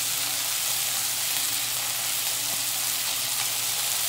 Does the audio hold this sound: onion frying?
yes